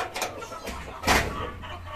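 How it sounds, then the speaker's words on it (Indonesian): Kedu chickens from Temanggung, kept in a coop, give a few short clucks and rustles at close range. "ini adalah ayam kedu ya. Kita datangkan dari Temanggung."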